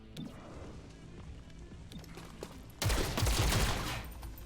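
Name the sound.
gunfire in the video game XCOM Chimera Squad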